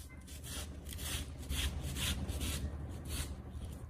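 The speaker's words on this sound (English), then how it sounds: "First, I completely remove the watermelon flesh from the rind." A knife cuts watermelon flesh away from the rind in a quiet series of soft, rhythmic rubbing strokes, close and faint.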